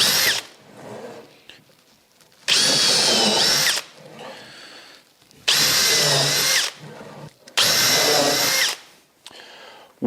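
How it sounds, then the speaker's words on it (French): A power drill with a countersink bit bores into wood for a screw head in a home workshop, with three loud, sustained whining bursts of about a second each, separated by quieter pauses of handling noise. "je vais mettre la mèche avec une tête à fraiser"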